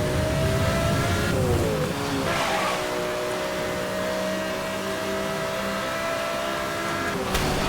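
Engine revving and accelerating in Need for Speed: Hot Pursuit (2010), a steady loud whine that rises in pitch, dips around two seconds into a brief skid, then climbs again and holds to the end.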